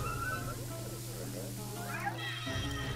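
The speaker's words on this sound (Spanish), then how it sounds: "Y ahí está, el gato. Es que no le gusta nada el agua." A cat meowing and yowling in the video game Luigi's Mansion 3, drawn-out wavering cries over continuous game music, with a voice talking alongside.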